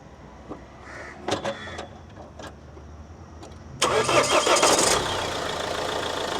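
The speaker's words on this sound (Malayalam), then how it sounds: "നമുക്ക് വണ്ടി ഒന്ന് സ്റ്റാർട്ട് ചെയ്ത് നോക്കാം കേട്ടോ" A Mahindra XUV500 cranks briefly, catches and fires up, then settles into a steady idle; a few clicks and switch sounds come first, close by.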